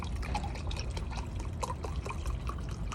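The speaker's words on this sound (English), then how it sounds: "we're going to be adding 2 cups of beef broth" Beef broth poured from a measuring cup into a skillet of dry pasta shells for a beefy taco mac, a steady close liquid trickle and splash with small drips throughout, no talk.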